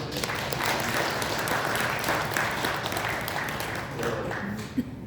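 A Sunday worship congregation at a church in Daejeon breaks into steady, full applause to welcome a neighbor, a continuous wash of many hands clapping at moderate distance, with faint voices mixed in.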